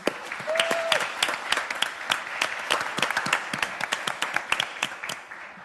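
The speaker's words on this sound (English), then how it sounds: "if you all join me in a round of applause for this too" A crowd claps steadily in sustained applause, dense overlapping hand claps at close range for several seconds.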